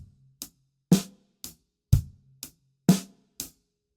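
Original version of a basic drum groove, played without the hi-hat foot: sharp, dry alternating hits with low kick thumps and snare cracks, evenly paced over four seconds, close and isolated with no voices.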